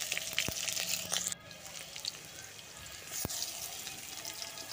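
White mustard seeds fry in oil in a wok with a soft, fairly quiet sizzle that is stronger at first and then settles, broken by a couple of sharp pops.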